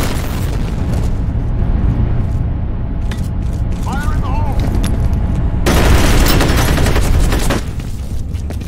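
Grenade blast in the shooter game F.E.A.R. Combat, a loud sustained boom with rumbling debris and a second heavy surge midway, dense and close over game effects, with a voice callout in the mix.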